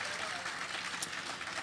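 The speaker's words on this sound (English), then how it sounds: "You can applaud." An audience applauds at the Brooklyn Book Festival main stage, with a steady, dense wash of clapping that holds evenly throughout and carries no distinct voices.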